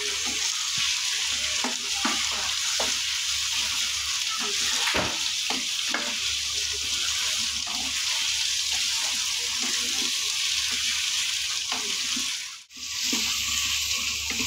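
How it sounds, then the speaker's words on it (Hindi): Chicken pieces fry in a pan with a continuous close sizzle, broken by occasional spatula scrapes and taps and a brief dip near the end, with no talking. "मैंने चिकन डाला है और इसको मैंने ना फ्राई करना है अच्छे से"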